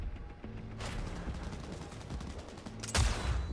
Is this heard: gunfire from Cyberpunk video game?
yes